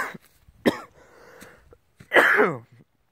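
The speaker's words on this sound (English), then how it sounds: "I cannot stop coughing." A person coughing in a casual vlog setting: several separate harsh bursts, a short one near the start, then a longer, louder raspy fit at the end, close to the mic with quiet pauses between.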